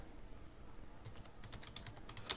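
Keys tapped on a computer keyboard while entering a Linux command, a sparse run of light clicks that speeds up toward the end, close by and fairly quiet over a faint steady hiss.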